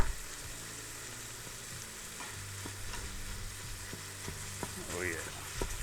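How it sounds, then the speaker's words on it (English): Ground beef browning in an Instant Pot after the onions, a soft continuous sizzle with intermittent clicks and scrapes as the meat is broken up, heard close without speech. "Let's get the ground beef into here. Start getting it broke up. Get it browned up good."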